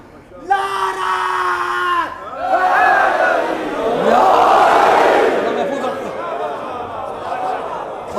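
A crowd at a Shia majlis in a Lahore mosque shouts a loud unison response to a slogan, a leader's voice calling first, then a swelling roar of many voices that slowly fades.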